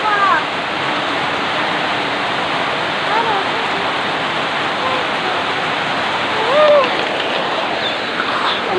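A stream swollen with rainwater on a rainy day rushes in a steady, loud broadband roar that stays close and constant throughout, with a few faint higher calls poking through.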